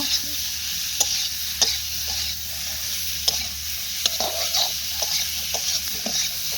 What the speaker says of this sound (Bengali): তারপর এভাবে কিছুক্ষণ নাড়াচাড়া করতে হবে